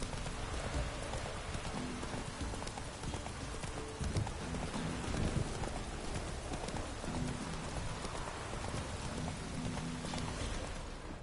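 Horse hooves clip-clop in a steady trotting rhythm through a constant hiss of falling rain in The Witcher, the hoofbeats close and moderately loud beneath the dense downpour.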